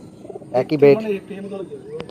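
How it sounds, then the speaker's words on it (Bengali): Pigeons coo in a high-flying pigeon loft in Ranihati, Howrah: a short, close burst of throaty cooing that rises and then fades, with faint soft calls trailing after. "খুব ভালো কোয়ালিটির পায়রা, রেজাল্টেড পায়রা দাদার এগুলো"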